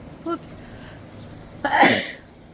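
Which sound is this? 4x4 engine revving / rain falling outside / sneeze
sneeze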